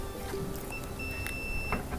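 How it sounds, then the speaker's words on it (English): A multimeter on continuity mode emits a steady electronic tone while its probes touch the terminals of a Whirlpool dryer thermostat, heard up close over faint room noise. "hear the beep, and that means it has good continuity."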